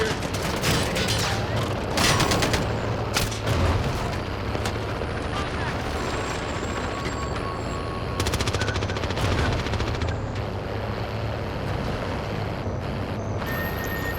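Automated sentry gun fire in the Call of Duty Warzone video game, rapid bursts of machine-gun shots over a constant rumbling battle background, with sporadic players talking.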